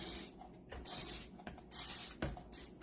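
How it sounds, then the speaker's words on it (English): A spritzer spray bottle fires two long hissing bursts of mist close by, separated by soft handling clicks, with a sharp tap near the end. "I'm still working on finding a spritzer sprayer that I like."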